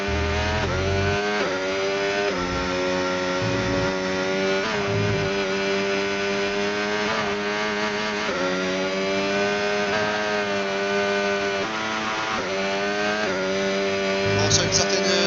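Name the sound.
Formula 1 car engine on qualifying lap, Japanese Grand Prix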